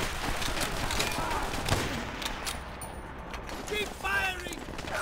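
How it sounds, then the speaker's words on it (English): Rapid gunfire in a World War II battle in Call of Duty: World at War, with a dense crackle of rifle and machine-gun shots over a constant battlefield roar. "Keep firing!"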